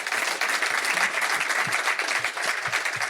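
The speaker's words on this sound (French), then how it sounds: "on peut applaudir Julien." Studio audience applauding during a sailing talk show, a steady dense wash of clapping hands that holds at an even level throughout with no voices over it.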